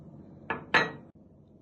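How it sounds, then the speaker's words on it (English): Chopped onion tipped into a cooking pan, giving two short clattering scrapes close by, then quiet. "I add onion."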